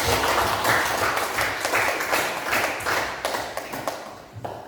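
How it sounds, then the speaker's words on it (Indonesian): Applause from a classroom audience during a school history lesson, a dense wash of clapping that stays fairly loud and fades toward the end, with a few separate claps standing out. "Tepuk tangan."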